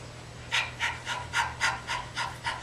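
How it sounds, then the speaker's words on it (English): Rapid rhythmic breath of fire from kundalini yoga practice, eight sharp forceful exhales through the nose at an even pace of about three per second, close and fairly quiet over a low steady hum. "So breath of fire is a rapid breath."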